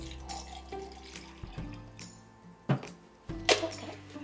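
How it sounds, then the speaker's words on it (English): Pretend mango juice is poured and sloshed into a toy bottle during doll play. Faint trickles give way to a couple of sharper splashes and clinks near the end. "I can use this part to pour the mango juice in."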